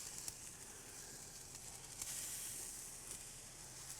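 Salmon and scallop seafood kabobs sizzle steadily on a hot grill, a soft continuous hiss with faint crackles, fairly quiet and heard alone.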